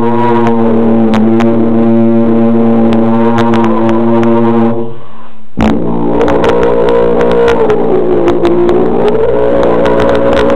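Sousaphone multiphonics, a player humming or singing into the horn while sustaining a note, giving a loud, buzzing chord of stacked tones; a brief gap, then a second wavering multiphonic that slides in pitch.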